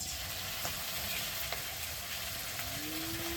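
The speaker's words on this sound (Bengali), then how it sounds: "এখন ভালো করে ভাজে নিব" Chana dal frying in a pan with salt, green chili paste and turmeric, a steady dense sizzle held close and even throughout, with a few faint clicks of stirring.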